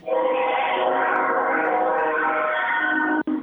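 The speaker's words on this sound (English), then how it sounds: "It sounds like you're at the train station getting ready to leave." A train passes near a station, a steady loud rumbling roar with tonal horn-like harmonics, heard over a narrow phone line and cut off abruptly near the end.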